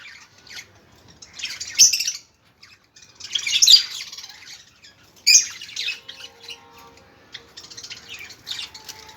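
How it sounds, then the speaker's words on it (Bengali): Java sparrows feeding on a seed mix with a lot of rice in it, giving bursts of bright squawks and chirps close by, with quieter pecking and shuffling between the calls. "দেখো এখন জামা পাখিরা কি সুন্দর খাচ্ছে"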